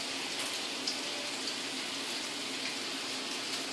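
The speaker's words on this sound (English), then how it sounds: "That's just the bacon cooking." Dense, steady crackling and sizzling of bacon frying in a pan, continuous and close, with a fine hiss that sounds much like heavy rain.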